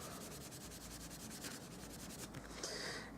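An embossing buddy rubbed over card stock in short back-and-forth strokes, a faint, close, dry swishing with a steady rhythm.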